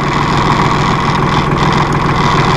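2005 New Holland TC30 compact tractor with loader, engine idling: a loud, close, steady diesel rumble that holds even and unbroken, with no talk over it.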